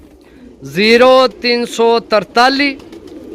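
Pigeons cooing softly in the background while someone speaks loudly and close over them for the whole stretch.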